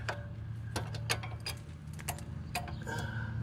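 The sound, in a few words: socket ratchet tightening a sway bar link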